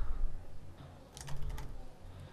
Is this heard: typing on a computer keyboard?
yes